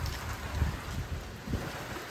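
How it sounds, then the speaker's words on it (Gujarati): Heavy downpour during a storm, a dense steady hiss of rain with a few soft low thumps, heard outdoors and unbroken by talk. "તો જો અત્યારે વરસાદ ચાલુ થઈ ગયો છે."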